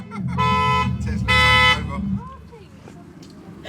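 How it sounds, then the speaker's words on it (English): Car alarm sounding in short melodic bursts, two loud tonal blasts close by with a low engine hum beneath, then fading to quieter background noise. "It's the alarm because it's not in dog mode. But the alarm was playing music."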